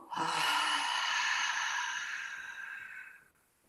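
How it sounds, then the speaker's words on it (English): Slow, deep breath drawn in and released during a guided relaxation and yoga exercise, a single long airy exhale that fades out gently, close and soft with no talking. "So we'll take the breath from the nostrils and exhale with your mouth."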